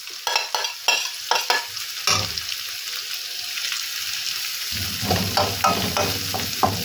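Shallots and garlic sizzle and crackle in hot oil with a scraping, stirring rhythm; the frying gets louder and fuller toward the end, and no voice is heard.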